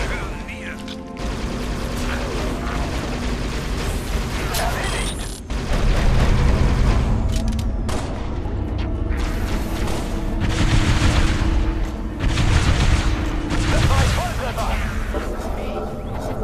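Bazooka shots and explosions in the Halo: Spartan Assault video game make repeated heavy booms and rattling mechanical clatter throughout a busy battle, with game audio running continuously.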